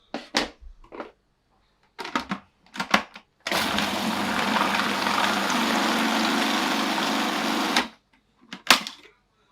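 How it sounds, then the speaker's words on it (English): A food processor runs for about four seconds as it blends cheesecake batter containing corn flour, a steady loud whirring motor drone. Brief clicks and handling knocks come before and after it. "But for me, processor works best because it really smoothens everything out."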